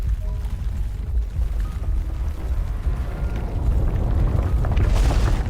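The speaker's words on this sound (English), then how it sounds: "The tremors and rumbling from the world below grow stronger." Deep rumbling tremors tearing through and destroying a facility in the game Love and Deepspace, a continuous loud low roar that swells toward the end with a brief burst of hiss.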